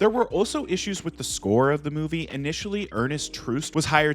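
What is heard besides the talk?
No everyday noise stands out behind the speech.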